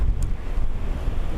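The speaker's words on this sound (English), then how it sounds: "Looks a wee bit blowy." Wind at Dublin Airport roars in a low, steady rumble across the microphone, loud and close for a brief moment with no talk.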